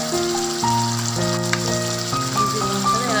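Curry leaves frying in hot oil in a pan for masala egg fry, making a loud, dense crackling sizzle that holds steady for a few seconds, with steady tones in the background.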